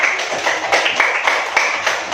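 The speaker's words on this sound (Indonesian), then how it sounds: "Tepuk tangan untuk Omar." Classroom clapping from pupils rewarding a classmate during an Indonesian primary-school lesson on plant parts, a short burst of dense, fairly loud hand claps with a few stronger accents, close by and without talk.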